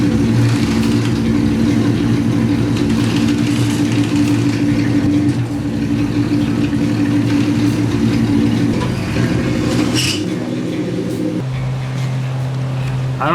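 A 1965 Ford Mustang engine, run after sitting for 42 years with an automatic choke problem and a missing heat riser tube, idles roughly and loudly up close, its pitch shifting and briefly revving near the end.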